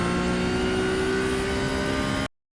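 Porsche GT3 Cup car flat out at Mugello in iRacing, its engine holding a loud, steady high-revving drone with a strong tonal whine before cutting off abruptly.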